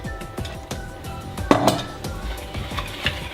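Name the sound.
stirring melted chocolate and cream in a bowl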